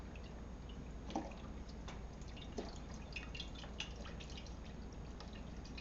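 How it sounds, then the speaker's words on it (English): Beef broth pours steadily into a Dutch oven pan, a soft, continuous liquid wash with a few brief drips and splashes on top, fairly quiet and with no voices. "we're just going to pour it right into the pan"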